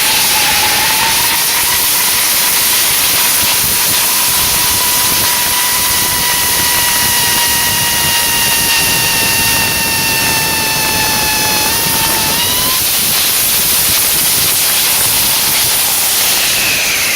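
A small model rocket engine mounted sideways with a slight upward tilt fires in a ground test, a loud, continuous roaring hiss with a steady whistling tone that holds for over ten seconds and then shifts pitch.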